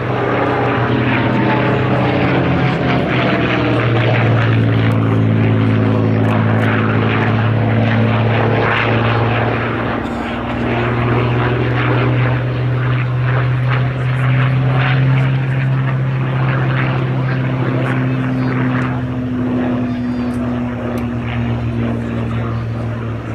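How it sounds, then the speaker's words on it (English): A P-51D Mustang with a Packard-built V-1650 Rolls-Royce Merlin engine flies at an air show, its loud, sustained propeller drone shifting in pitch as it passes, with faint crowd noise underneath. "the P-51D Mustang using the Packard-built V-1650 version of the Rolls-Royce Merlin"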